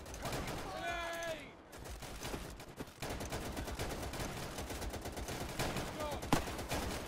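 Gunfire from the video game Easy Red 2, with a dense run of shots and bursts crackling nonstop across the whole stretch. Voices speak over the shooting now and then.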